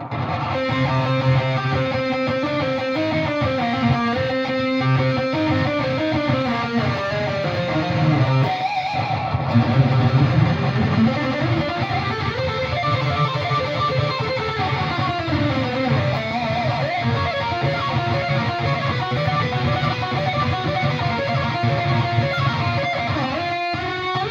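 An electric guitar played through a budget delay pedal rings out in a continuous flowing melodic line, the notes trailing and overlapping with echoes, loud and close, with no talking.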